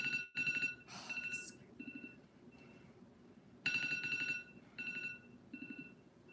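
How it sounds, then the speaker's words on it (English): An electronic alarm beeps and rings indoors in repeated bursts with short gaps, moderately loud, no voices over it. "then an alarm goes off, sorry, that scared the crap out of me"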